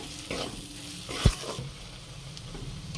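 Spices with garam masala powder sautéing in a pan for paneer bhurji, a steady close sizzle with a few bursts of stirring and one sharp clank of the utensil against the pan.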